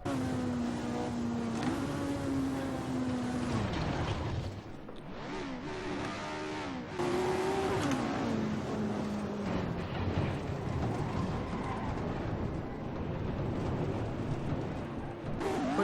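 A 1960s race car engine at Monaco in Assetto Corsa roars loud and steady after a crash into the harbour, pitch sliding down and then climbing again as it accelerates through the gears, with no talk.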